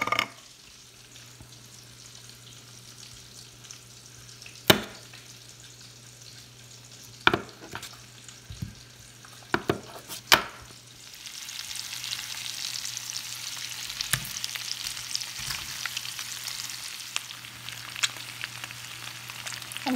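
Potatoes and Spam frying in a pan, a quiet background hiss broken by several sharp clinks and scrapes, then a louder, denser sizzle swelling over the second half as the food cooks, with no talk.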